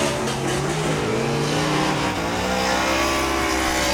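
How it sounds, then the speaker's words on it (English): A single superstock race car laps a speedway track alone at the Wellington superstock shootout, its engine a loud, sustained roar that holds steady with small shifts in pitch as it runs, close and continuous. "It's great hearing one car going around the track because it just sounds fantastic."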